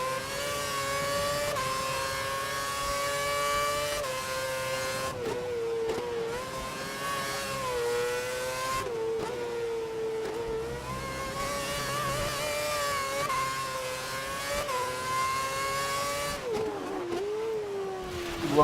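An F1 2011 race car, leader Jensen Button's, howls past at high revs in a racing game, its engine pitch sweeping up and down through gear changes over a steady, loud whine with no talking.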